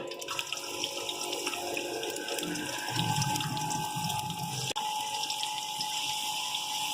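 Three large onions hitting a pot of hot oil for matar pulao give a steady, close, watery hiss with a few low bumps and one sharp knock partway through. No one speaks.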